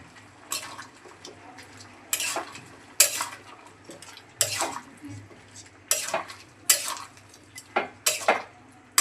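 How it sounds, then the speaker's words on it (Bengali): A metal pot lid is lifted and ground spice paste is scraped into the pot, giving a series of close, sharp clinks and clatters of metal utensils at irregular intervals against a quiet low hum. "এখন ঢাকনাটা খুলে বাটা মশলাগুলোকে দিয়ে দিচ্ছি।"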